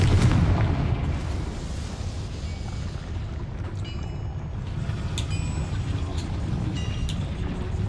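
A Confringo fire spell explodes in Hogwarts Legacy with a heavy low boom at the start, fading into a rolling rumble under ambient game sounds and faint chimes.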